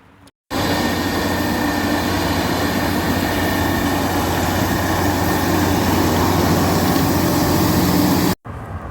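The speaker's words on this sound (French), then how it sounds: "un Massey 8S 245 de dernière génération et une charrue Lemken 6 socles tirée par le tracteur" A late-generation Massey Ferguson 8S 245 tractor pulls a six-furrow Lemken plough across a field, its engine a loud, steady drone that starts abruptly and cuts off near the end.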